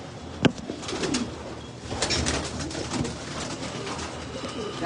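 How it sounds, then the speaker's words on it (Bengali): A pet pigeon coos close by in soft, repeated low murmurs, with a sharp flutter or knock near the start and faint room noise underneath. "আমাকে গিফট করছে এই কবুতরটা"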